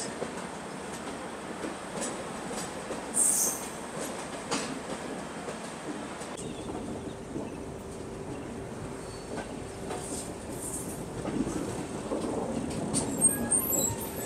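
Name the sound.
North East Express train arriving at Bongaigaon station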